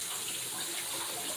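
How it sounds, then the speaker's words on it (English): Water runs steadily from a kitchen tap as mixer beaters are rinsed under it, a continuous close hiss with no talking. "So now I just got to go over there and rinse those beaters."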